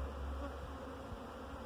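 Bees swarm thickly around honey, a dense, steady insect buzz that fills the whole moment without a break, close and continuous with no voices.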